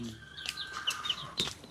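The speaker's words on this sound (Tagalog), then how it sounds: "Ang dami nyo ring manok, Kuya Ruel." Chickens cluck and chirp close by on a backyard farm, short scattered calls spaced out over soft background noise.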